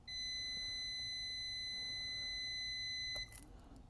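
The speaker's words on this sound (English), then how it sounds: "Yep, it's beeping" A multimeter in continuity mode beeps steadily on the shorted main power rail of an iPad Pro 12.9 5th generation during board repair: one loud, continuous high-pitched tone for about three seconds, then it cuts off.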